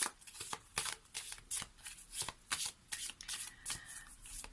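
A tarot deck is shuffled up close to draw a second card, with repeated crisp riffling bursts in a steady rhythm.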